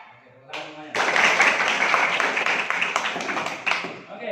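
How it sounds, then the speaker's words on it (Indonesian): Group of students clapping together in a counted pattern at a school OSIS leadership training session, a dense loud burst of many hands filling several seconds after a quieter start, with voices mixed in. "Tepuk 1, tepuk 2, tepuk 2, tepuk 1,"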